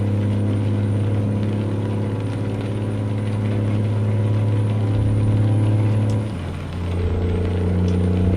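A heavy-haul B-train truck with a Ruda glider cab in American Truck Simulator engages a modded Jake brake, a loud, steady low engine drone that drops briefly near the end before resuming.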